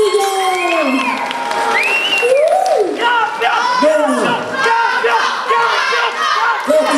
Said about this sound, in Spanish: ¡Felicidades! ¡Un aplauso!